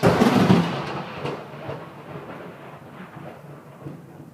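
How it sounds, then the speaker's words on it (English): Thunder following a lightning strike outside during a storm, beginning as a loud close crack and rumble that fades into a long low roll with no talk over it. "Shoot, I saw that lightning strike."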